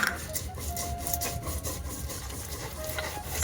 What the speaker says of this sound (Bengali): ততক্ষণ কালো সরষা আর সাদা সরষা একসাথে কাঁচা লঙ্কা শিলনোড়ায় বেটে নেব।